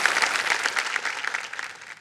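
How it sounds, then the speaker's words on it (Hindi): A studio audience on a televised quiz show claps for a contestant's family, a brief burst of bright, fairly close applause that tapers off toward the end. "तालियां बज जाए इनके लिए"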